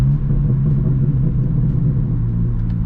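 Close, steady low rumble from a BMW G80 M3 engine under way on the road, holding an even drone throughout without a distinct rev spike, and no voices.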